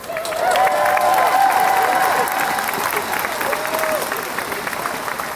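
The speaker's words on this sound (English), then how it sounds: "Please give them a round of applause" A crowd at a Toronto downtown rally against anti-Asian racism applauds the volunteers and marshals: steady massed clapping with some cheering and a few whistle-like tones, loud and continuous, fading a little toward the end.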